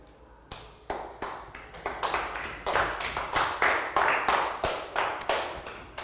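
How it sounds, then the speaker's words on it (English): A year 3 maths class claps a round of applause for a pupil, with sharp, separate hand claps in an uneven, quickening rhythm that grows louder and fuller, nearby and with no talk. "Round of applause for Prel."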